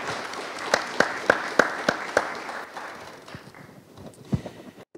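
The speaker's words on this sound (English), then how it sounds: "A round of applause for our panelist, Maddo." An audience at a panel conversation on arts and culture applauds a panelist, with a few sharp claps early on and a clapping sound that thins out and fades toward the end.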